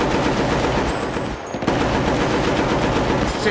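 Sustained automatic gunfire in the Battlefield Bad Company video game, a dense rapid stream of loud shots with a brief dip midway before the firing resumes just as heavily.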